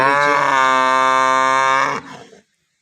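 A single long, loud cow moo from Jersey or Sahiwal cattle, close and sustained for about two seconds before tapering into a brief rough tail, with no talk over it.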